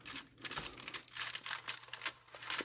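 Aluminum foil crinkling and rustling close up as it is grabbed by hand while oven-baked chicken thighs are flipped, with dense, continuous crackling.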